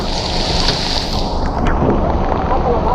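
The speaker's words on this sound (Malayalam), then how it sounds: "ഇന്നിപ്പോൾ നമ്മളിവിടെ ലേക്കിൻ്റെ അടുത്ത് വന്നപ്പോൾ നല്ല അടിപൊളി മഴ" Heavy rain pours steadily beside Poondi Lake near Chennai, a dense, close wash of noise with wind buffeting the microphone throughout, holding at a loud, even level.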